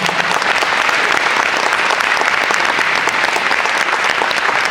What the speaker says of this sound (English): Everybody give a good round of applause for these gentlemen.